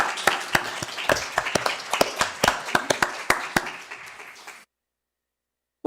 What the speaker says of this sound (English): Yeah, I guess we should applaud